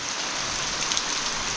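Steady downpour of unseasonal rain in a Konkan village, an even, wide hiss of water falling nearby with no breaks and no voices.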